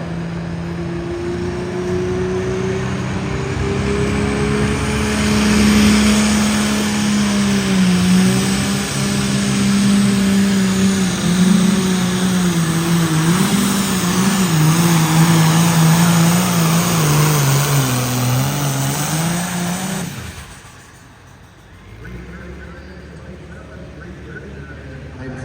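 Pulling truck at a truck and tractor pull in New Holland roaring at full throttle for about twenty seconds, a loud sustained engine drone with wavering pitch that cuts off abruptly, with an announcer talking over it.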